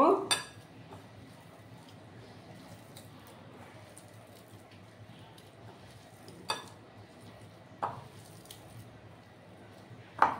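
Pointed gourd being mixed with spices in a bowl, soft squishing and moist rubbing with sharp clinks of metal against the bowl at intervals, close up and fairly quiet.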